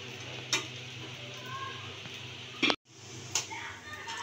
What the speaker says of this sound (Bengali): এভাবে আমি ধীরে ধীরে মিডিয়াম আঁচে ভেজে নিব।